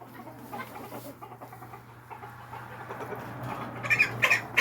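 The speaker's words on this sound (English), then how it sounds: "Oh, little chicken, I just love little chicken." Small backyard Silkie chickens cluck and squawk softly over a steady low farm hum, the calls growing busier and louder toward the end.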